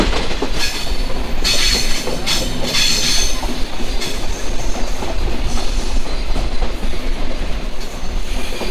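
The Chilahati Express train rolls past close by, loud and continuous, with rhythmic clickety-clack of wheels on rails and occasional metallic squeals.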